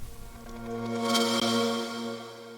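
A synth riser built from a Super Massive preset in Cakewalk swells steadily, a sustained tonal drone with a bright sweep building to a peak around the middle before easing off, heard alone.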